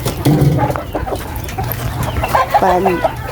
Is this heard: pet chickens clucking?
yes